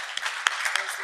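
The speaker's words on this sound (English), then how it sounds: "So let's give him a big round of applause." Brief, fairly faint applause at an international legal conference award presentation, with a few sharper individual claps standing out above the crowd.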